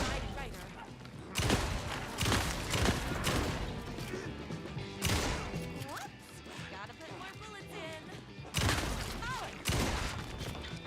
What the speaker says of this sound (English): How can I hit you with a shotgun from so close and you take so many hits?